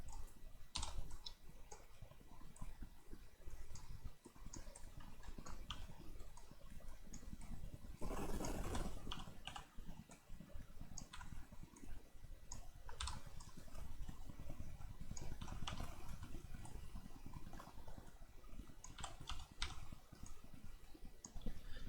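Steady computer keyboard clicking as WSAD keys are pressed in Unity, light rapid taps continuing throughout at a quiet, close level with no talk.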